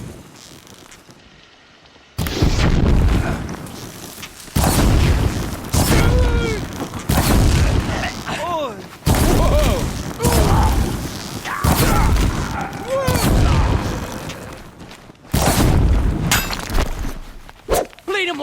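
Enemy gunfire in Horizon Zero Dawn erupts in loud bursts of booming shots and crackling volleys, separated by brief lulls, with voices and battle noise mixed in.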